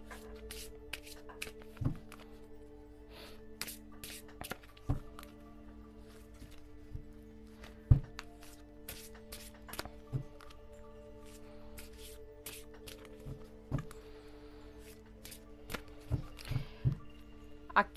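Gypsy (cigano) fortune-telling deck cards shuffled and handled close up in a quiet room, with repeated short riffling snaps and soft card slaps spread across the clip, no talking.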